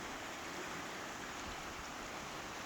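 Creek water flows steadily over stones among trees and grasses, a continuous broadband rushing hiss with no breaks and no voices.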